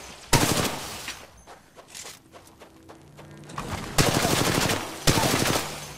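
Gunfire in Titanfall 2 during a training session: a loud burst at the start, quieter scattered shots and thuds in the middle, then two more loud sustained bursts toward the end.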